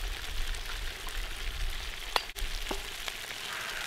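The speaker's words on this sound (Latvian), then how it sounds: "Tad sākam likt klāt sīpolus." Onions going in with browned chicken pieces frying in a kazan for chicken plov, a steady close sizzle with a couple of sharp clatters and a bump partway through, and no one speaking.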